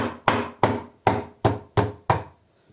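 Six sharp, evenly spaced thuds of a mallet pounding radishes on a hard surface, loud and close, then silence.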